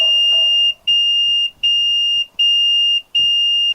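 A boat's dashboard alarm simulating engine room flooding sounds a loud, piercing electronic tone in five regular pulses, each lasting about half a second and separated by short gaps, close by with faint background noise.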